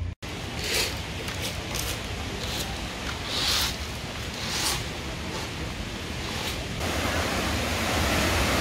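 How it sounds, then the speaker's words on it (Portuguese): Salgadeira waterfall in Brazil, a continuous rushing roar of falling water at moderate distance, steady with slight swells and brief whooshing gusts, with a short dropout at the start. "É uma cachoeira realmente muito bonita."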